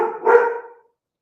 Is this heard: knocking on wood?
no